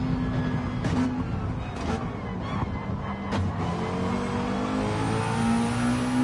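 Race car engine in a sim racing game revs hard and climbs through the gears, with quick drops in pitch at upshifts around one, two and three and a half seconds before pulling strongly again, loud and continuous.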